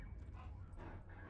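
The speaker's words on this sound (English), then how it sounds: "Don't rush the dog. He's just a dog." A dog in the video game Grand Theft Auto 5 gives faint, soft canine whines and yips over a steady low background hum, quiet and somewhat distant throughout.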